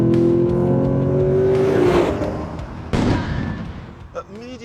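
A Lexus GS F V8 engine revs hard, its loud rising snarl peaking near two seconds and then dying away, followed by a sharp crackle and a brief tail of engine noise.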